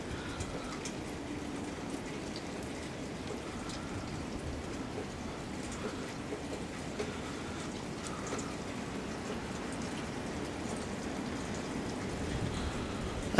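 Steady wind and rain outdoors during a changeable storm, a constant hissing, rushing wash of rain and gusting air with faint patters, even and continuous throughout.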